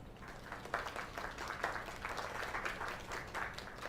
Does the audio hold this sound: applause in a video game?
yes